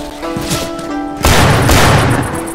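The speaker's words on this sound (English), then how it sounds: "Throwing a pipe bomb." A pipe bomb goes off in Left 4 Dead 2, one loud, close boom that cuts in midway and rumbles on over earlier game noise.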